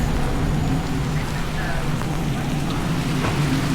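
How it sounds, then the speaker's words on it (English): Steady heavy rainstorm hiss and patter, loud and continuous, likely heard from inside a moving vehicle on the road, with low rumbling underneath and no clear speech. "right into the rainstorm"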